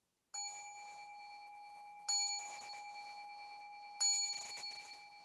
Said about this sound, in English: I'll ring the bell just as a way to begin this reflection.